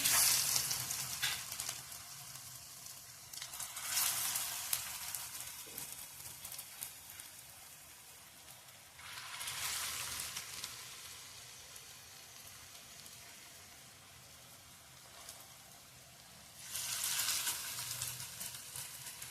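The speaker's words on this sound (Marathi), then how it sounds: "हराभरा कबाबच्या टिक्क्या छान अशा तेलात खरपूस आपण भाजून घेणार आहोत." Hara bhara kebab patties shallow-fry in hot oil over a medium gas flame, a soft bubbling sizzle that swells into bright crackling bursts three times before settling back down.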